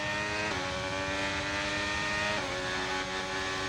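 Steady high-pitched whine of an F1 race car engine in the F1 23 video game, holding a sustained note with two brief gear-shift dips, continuous and fairly loud with no talking.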